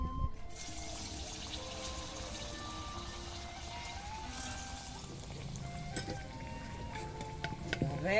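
Sugar palm fritter batter drops into hot oil and fries with a soft, continuous sizzle and faint bubbling, fairly quiet and close.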